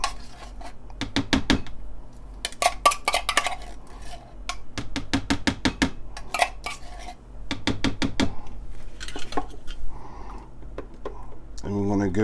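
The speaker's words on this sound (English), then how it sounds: "And we're going to give that a stir." A spoon stirs a Salisbury steak mixture in a bowl, making repeated rhythmic scraping and clinking bursts against the sides. The sounds come in clusters with brief pauses between them.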